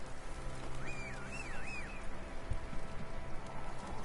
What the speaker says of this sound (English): I shall call my horse.